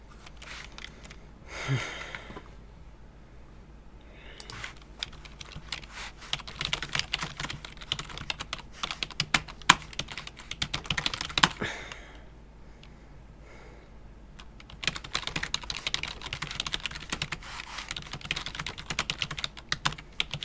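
Typing on a separate computer keyboard, rapid clattering keystrokes in bursts separated by short pauses, close and clear with no talking.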